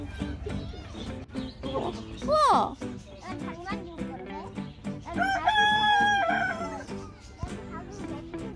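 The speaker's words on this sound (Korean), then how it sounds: "닭이다!" A rooster crows loudly nearby, its long rising call standing out over children chattering and other voices in the background, at Trophical Bay in Hwaseong, South Korea.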